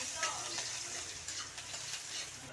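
Garlic sautéing in a pan gives a steady crackling sizzle with small bursts of spattering, moderately close and without talk.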